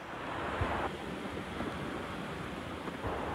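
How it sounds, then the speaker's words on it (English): Waves wash onto a Maldives beach under steady wind buffeting the microphone, with a continuous surf roar and a few louder swells breaking nearby. "We're on the beach"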